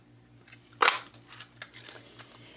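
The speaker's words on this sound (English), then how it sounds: "take the coordinating punch and just punch this out" A single sharp paper-punch crunch as a coordinating craft punch cuts a shape from stamped cardstock, followed by a few faint handling clicks and rustles.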